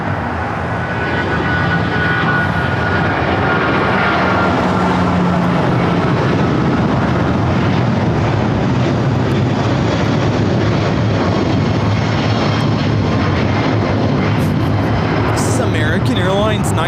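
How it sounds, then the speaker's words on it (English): An American Airlines Boeing 777 rolls down runway 25 right at LAX with a loud, continuous jet engine roar that stays powerful and steady throughout, while a voice talks over it. "The American 777 rolling down at 25 right."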